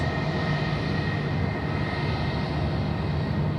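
An Emirates jet at Sydney Airport at night sends a steady, broad engine roar from the background, a continuous loud rumble with a faint tonal whine riding on top and no voices.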